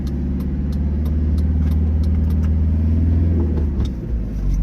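Campervan engine pulling away at night in Teignmouth, Devon, a loud, close, steady rumble that builds slightly as the engine revs, then eases near the end.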